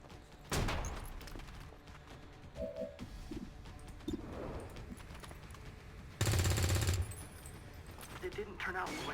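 Gunfire aimed at a turret in XCOM Long War of the Chosen comes as two loud, sharp bursts, one short and one longer rattling volley, over low background game sounds.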